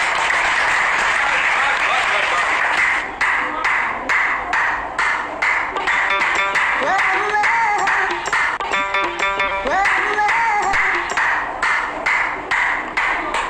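A crowd keeps up loud applause for doctors and police, a dense clatter of handclaps that breaks into choppy bursts, with ringing tones and a voice rising over it midway.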